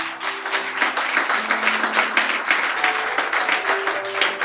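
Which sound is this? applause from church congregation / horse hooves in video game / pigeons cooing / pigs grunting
applause from church congregation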